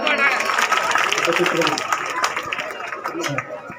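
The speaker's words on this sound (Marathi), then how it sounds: "टाळ्या वाजून घ्या, टाळ्या." A crowd at an Indian government outreach event in Yesurna village claps in a dense, continuous burst while voices speak over the applause, which thins out toward the end.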